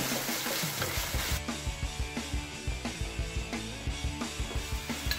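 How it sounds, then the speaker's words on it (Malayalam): Beef sizzling in a pan with salt and turmeric while being stirred, a steady loud frying hiss with rhythmic scraping strokes of the spoon roughly every quarter second. "1/2 ടീസ്പൂൺ മഞ്ഞൾപ്പൊടി ഇട്ട് കൊടുക്കാം. എന്നിട്ട് നന്നായി ഇളക്കി കൊടുക്കാം."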